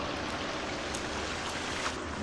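Steady rushing of running water, a continuous broadband wash at moderate level with no voices, heard alone.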